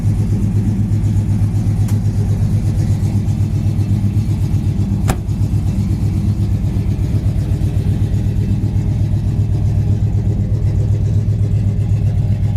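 1970 Pontiac LeMans V8 engine running close by at a steady, loud, rumbling idle with a throbbing low pulse, a couple of brief revs rising above it, and no talk.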